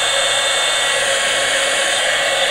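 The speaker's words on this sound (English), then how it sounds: "you really need to warm your heat tool up" A handheld heat tool for embossing runs with a loud, steady blowing hiss, like a hair dryer, holding an unbroken tone throughout with no talk.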